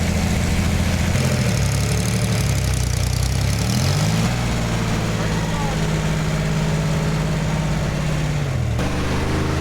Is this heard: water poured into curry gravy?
no